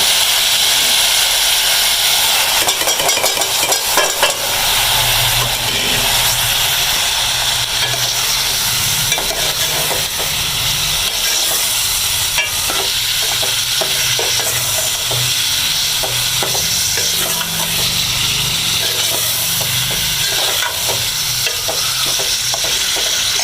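Spices, ginger, garlic and minced chicken sizzle and fry steadily in a hot pan, with occasional stirring scrapes, loud and continuous throughout.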